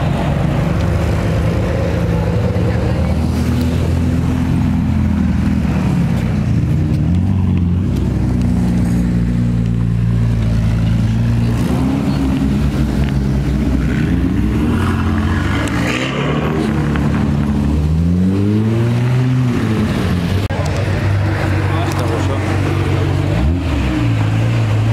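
Ferrari sports cars, including F8 Tributo Spiders, drive past in a street gathering in Knokke, with loud continuous engine roar and rising and falling revs as the cars go by close.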